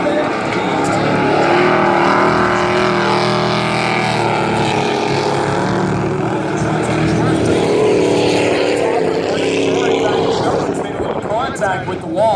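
Four-cylinder race trucks roaring around an oval at Valley Raceway in a truck-class feature race, a loud continuous engine drone with passing swells, under steady commentary.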